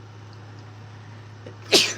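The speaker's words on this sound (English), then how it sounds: "Hold on, I have to sneeze." A single sharp sneeze bursts out near the end after a quiet stretch of low electrical hum.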